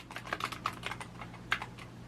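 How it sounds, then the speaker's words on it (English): Quiet, close computer keyboard typing, a quick run of soft key clicks over a couple of seconds with a slightly louder tap near the end and no talk. "I'm going to type in best of show."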